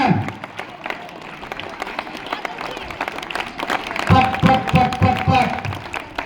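Women at a mothers' gathering with a competition clap, a scattered, moderate patter that swells into a louder, denser burst about two-thirds through, with voices mingling underneath.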